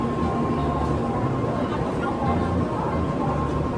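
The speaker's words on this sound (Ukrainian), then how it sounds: "Ми на поїзді" Steady low rumble and rattling inside a moving train in Japan bound for Osaka, continuous throughout, with muffled chatter from people nearby.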